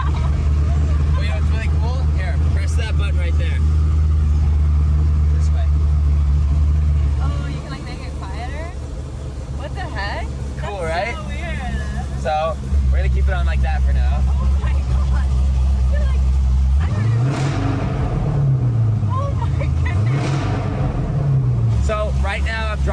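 A loud rebuilt Corvette engine rumbles heavily at close range while the car is driving, easing back partway through and then revving up and down again. People talk excitedly throughout.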